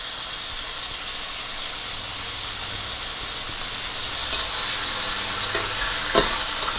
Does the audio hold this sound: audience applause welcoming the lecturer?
no